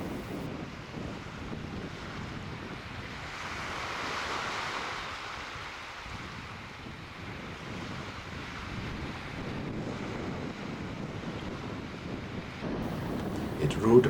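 Wind and choppy water rush steadily around a baidarka kayak on a breezy autumn day, with gusts buffeting the microphone and a continuous wash of waves.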